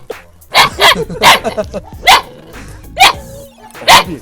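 A Belgian Malinois barking in several sharp, loud bursts close by, with short pauses between them and some rough growl-like tones.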